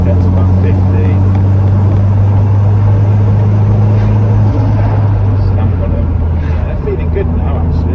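A Ford Escort van drives on the road, its engine and road noise forming a loud, steady low drone throughout, with talking over it.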